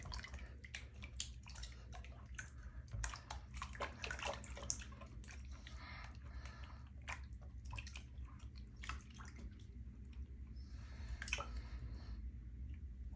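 Tap water runs steadily while apples are washed at a kitchen sink, with a constant splashing rush and scattered drips close by.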